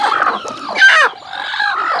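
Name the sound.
native country chickens clucking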